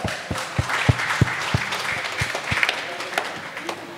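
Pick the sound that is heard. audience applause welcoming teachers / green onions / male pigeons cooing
audience applause welcoming teachers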